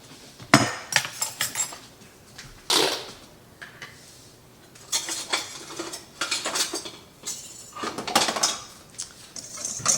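Salt and pepper seasoning for chicken being mixed in a bowl, with irregular clinks and scrapes of utensil against dish, bursts of activity separated by quiet pauses.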